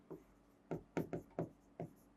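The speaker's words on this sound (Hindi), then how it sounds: "तो नोट लगा के मैं पॉइंट लिख रहा हूं" A pen writing notes on paper, a series of short scratchy strokes in uneven bursts, close and quiet with no talking.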